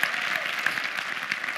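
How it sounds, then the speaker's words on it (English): Attendees at an email marketing seminar clap for themselves, a continuous patter of many hands at moderate level, even and unbroken. "Give yourselves a round of applause for being here today"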